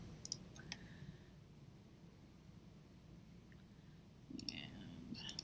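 Mouse clicks come from a computer while grading categories are deleted in Canvas: a few faint, close, sharp clicks at the start and a brief cluster near the end over quiet room hiss.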